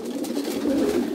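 Pigeons cooing nearby, a soft low throaty coo rolling continuously and fairly loud, with no voices over it.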